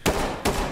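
Two sharp, loud gunshots about half a second apart in a GTA roleplay video game, each a hard crack with a short tail and no voices over them.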